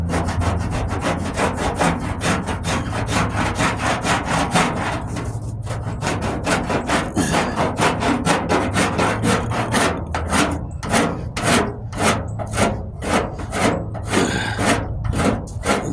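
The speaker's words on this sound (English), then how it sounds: "I could probably put more Bondo in there or whatnot, but Shoot. I'm just gonna sand" Hand sanding of Bondo body filler on the passenger-side wheel arch of a 1998 Ford Ranger, a close, steady scraping rasp that settles into distinct rhythmic back-and-forth strokes, loud with no talking.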